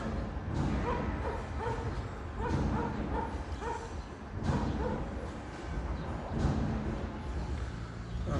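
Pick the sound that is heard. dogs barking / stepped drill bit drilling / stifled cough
dogs barking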